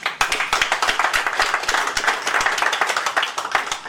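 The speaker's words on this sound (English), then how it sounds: "Can you give a round of applause for yourself to be here today?" Audience applause at a talk on children's social care in Middlesbrough, a modest group clapping in a brisk, scattered patter that carries steadily throughout.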